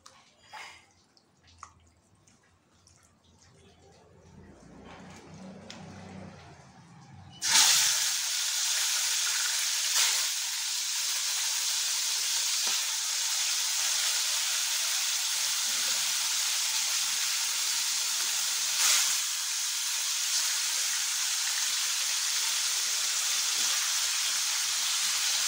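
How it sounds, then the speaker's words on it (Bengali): Chicken pieces, salted and coated in yogurt, frying in hot oil for a Bengali doi murgi curry, a loud steady sizzle that bursts in suddenly after a quiet start and then holds broad and even at close range, with no talk over it. "এবার চিকেনটা এক এক করে ভেজে নেব একটু।"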